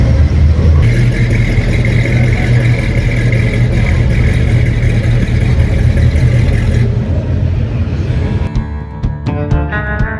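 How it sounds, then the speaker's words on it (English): A 1970 Ford Torino Cobra Twister Special with a 429 engine running, a loud, close, rough throbbing idle that holds steady, with clattering mechanical tones toward the end. "The Torino's going to be running first"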